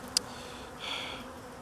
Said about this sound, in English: I'm getting battered by these bloody bees over there now